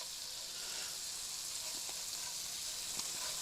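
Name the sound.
vermicelli and rice browning and sizzling in a pan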